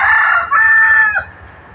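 A rooster crows loudly and close by, one long drawn-out cock-a-doodle-doo with a brief break in the middle, then fading to quiet.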